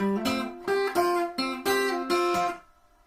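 Plucked blues guitar notes in F played in a short, choppy pattern, each note cut off quickly by left-hand damping, ending on a ringing chord that fades out.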